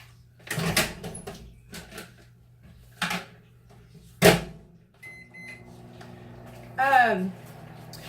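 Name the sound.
microwave oven running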